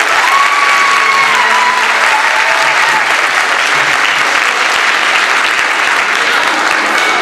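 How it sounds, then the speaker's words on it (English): Loud, sustained applause from a large audience at a holiday choral concert fills the whole stretch, steady and dense, with faint tones sounding faintly beneath. "Give them a round of applause for being here."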